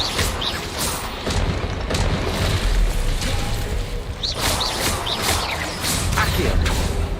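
A Confringo blasting spell in the Hogwarts Legacy video game: loud booming bursts and rumbling blasts with whooshes and crackles over dense game noise, repeating several times across the stretch.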